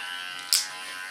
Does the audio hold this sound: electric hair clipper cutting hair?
yes